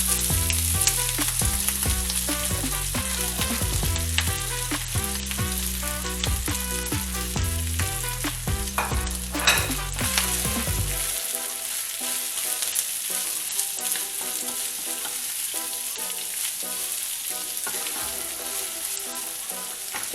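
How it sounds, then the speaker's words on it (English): Shredded casserole beef stir fries in hot oil for Venezuelan pabellon criollo. A loud, continuous close sizzle runs throughout with stirring scrapes on top, and no one speaks. "It's time to stir fry that beef."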